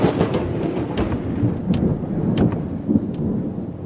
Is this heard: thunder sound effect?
yes